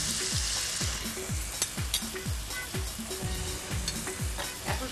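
Masala with sour yogurt and salt sautéing in a pan for chitol fish korma gives a loud, steady frying sizzle with rhythmic, regularly spaced stirring scrapes running throughout.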